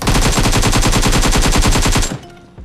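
Rapid automatic gunfire rings out in PUBG Mobile as one loud, close burst of evenly spaced shots for about two seconds, then cuts off into a brief, fading echo.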